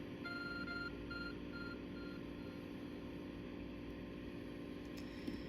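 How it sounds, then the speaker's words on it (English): In the video game Pokémon Legends: Arceus, a glowing object gives a faint, evenly spaced electronic beep that repeats several times over a steady low hum, then fades out. "There's a glowing, beeping object over there."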